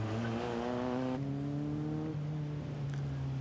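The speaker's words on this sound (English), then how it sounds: "Car with a 1366cc engine, good for 120 miles an hour" A hill climb race car with a 1366cc engine whines at high revs at Chateau Impney, its pitch climbing, then a gear change and a steadier buzzing drone as it passes fairly close.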